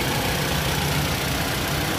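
A Mitsubishi Lancer EX engine idles with a continuous low rumble and slightly uneven throb from a shaking engine, steady and close throughout.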